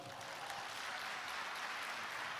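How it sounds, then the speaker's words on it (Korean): Audience applause after a presidential candidate's speech at a social welfare vision event, a steady, fairly faint wash of clapping from a crowd with no voices over it. "여러분 다시 한번 뜨거운 박수 부탁드립니다"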